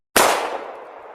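A single gunshot sound effect, a sharp, loud blast after a moment of silence that decays into a long fading tail.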